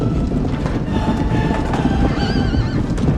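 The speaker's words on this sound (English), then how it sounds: "In the background, the sounds of thousands of horses running echoes" Horses whinny and neigh over a dense, steady rumble of many hooves, suggesting a large herd running; several drawn-out neighs rise clearly above the continuous loud background.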